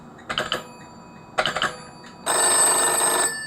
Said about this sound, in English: it rings the black phone on the desk